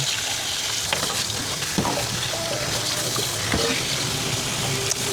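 Water poured in while making a chilled dessert, a continuous hissing gush close by with faint clatter and occasional soft knocks, steady throughout.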